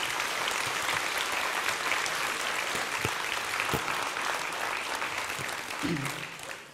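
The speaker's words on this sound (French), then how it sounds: "On peut les applaudir" Sustained audience applause fills a local New Year's greetings ceremony in Romans, a steady dense clapping wash that holds throughout and tapers slightly near the end.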